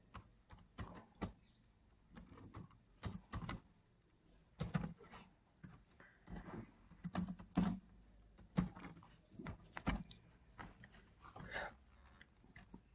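Keystrokes on a computer keyboard as program code for an LED chaser project is typed, irregular bursts of clicks and clacks spread over the whole stretch, fairly close and with no talking.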